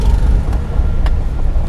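A car moves slowly during a driving lesson, giving a steady low engine and road rumble that stays close and fairly loud throughout, with no voices.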